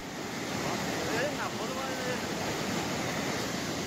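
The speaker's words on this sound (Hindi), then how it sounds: "पानी की रफ्तार तेज है।" A fast-flowing flood torrent rushes past rocks in Uttar Pradesh, a dense, loud, continuous roar with wind buffeting the microphone and no clear pauses.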